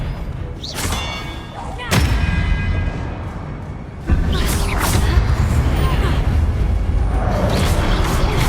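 Confringo fire spells blast in Hogwarts Legacy gameplay, with heavy thuds and booming impacts over a dense, loud game soundscape, including two abrupt hits that lift the level.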